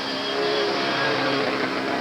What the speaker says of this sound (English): as you can probably hear, the engine is laboring a little bit